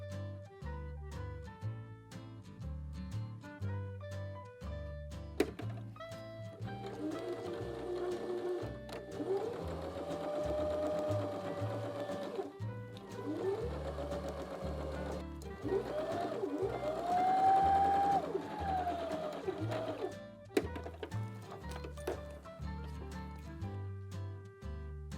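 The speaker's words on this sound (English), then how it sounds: "We're now going to take this to the sewing machine and sew between these points." A sewing machine stitches a seam on a looped infinity scarf, running in a steady mechanical whir for most of the stretch, starting and stopping at the ends, close up with no talking.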